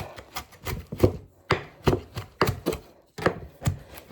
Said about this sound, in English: I've also put in a couple of sprigs of the basil. So I'm going to just give it a bit of a chop.